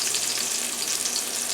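Salmon fillet frying in hot oil in a frying pan as its crust crisps, giving a steady, close, dense sizzle and crackle throughout with no talking.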